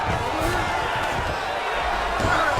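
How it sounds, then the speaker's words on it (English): Crowd roar in a UFC 5 fight night video game as fighters rise to their feet, a dense, continuous wash of cheering with a commentator talking over it. "huge pop from the crowd as the fighters get back up to their feet"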